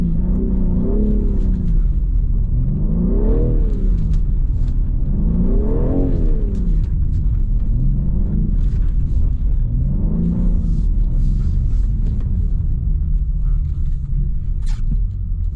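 A 510hp rear-wheel-drive BMW drifts sideways on ice, its engine droning loud and steady throughout, rising and falling in repeated rev swells as the car slides, with faint crunching and clatter above.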